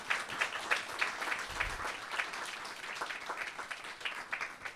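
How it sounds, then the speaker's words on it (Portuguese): Audience applause for the standing fathers at a church gathering, a moderate, fairly quiet patter of clapping with uneven bursts of individual hands. It carries on steadily throughout, with no voices over it. "Podemos dar uma salva de palmas a este pessoal?"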